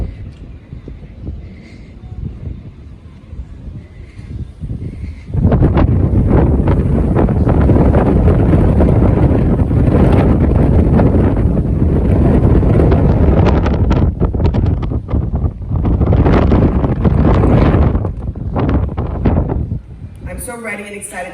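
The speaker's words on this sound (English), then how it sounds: "It's pretty windy out here" Strong wind buffets the microphone on an open cruise ship deck at night aboard Royal Caribbean's Symphony of the Seas, a loud continuous roar after a quieter start, with voices faintly under it.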